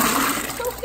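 Water and fish tipped from a bag into a bucket, a brief close splashing pour with a voice speaking over it.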